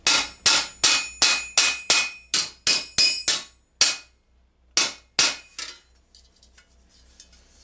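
Hammer strikes on a bascinet visor hinge held hard against the corner of an anvil: a quick run of about a dozen sharp ringing metallic blows, then a pause and two more hits, close and loud.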